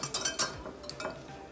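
A spoon stirs food in a pot during dinner cooking, making a few light scrapes and soft metallic clinks, quiet and brief, with no talk.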